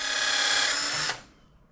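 A power drill bores a pilot hole into the end of a wooden stick for homemade shooting sticks, giving a steady high whine for about a second before it stops and winds down.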